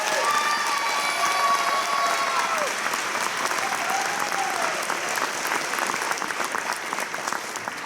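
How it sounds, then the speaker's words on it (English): An audience at a children's theatre production of Annie Jr. gives a loud, sustained round of applause, a dense steady roar of clapping with scattered cheers and a voice calling out above it. "So give them one more round of applause."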